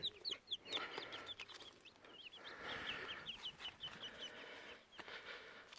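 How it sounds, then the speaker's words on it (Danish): Day-old chicks hatched in an incubator peep in rapid, high, chirping bursts, many small voices overlapping close by in a steady chatter. "nogle af kyllingerne her, de er jo ved at være en dag gamle"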